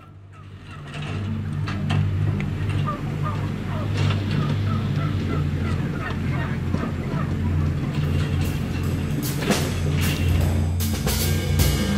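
Many turkeys gobble and cluck together inside a factory farm barn, forming a dense, continuous chorus of overlapping calls that stays loud throughout, with sharper squawks standing out toward the end.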